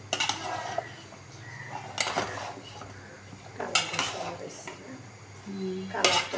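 A spoon stirs bottle gourd curry in a cooking pot, giving faint, intermittent scrapes and clinks against the metal in short bursts, with quieter gaps between them and a low background hum.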